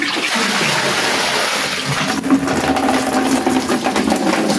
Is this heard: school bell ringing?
no